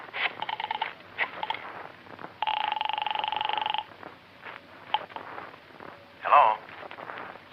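Telephone dialing in an old radio drama: a short run of clicks, then a steady, evenly pulsed ringing tone lasting over a second, set among quiet sparse studio sounds without clear talk.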